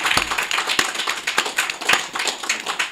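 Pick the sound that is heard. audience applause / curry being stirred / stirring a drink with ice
audience applause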